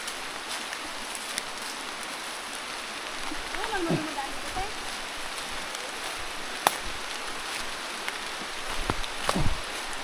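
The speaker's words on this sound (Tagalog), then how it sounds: "Rinig yung ulan" Light rain falling near a river, a soft, steady hiss of drops with a few sharper taps and splashes, fairly faint, with scattered outdoor movement.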